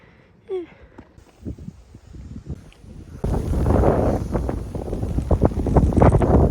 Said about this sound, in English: Every time the wind picks up, I'm so happy.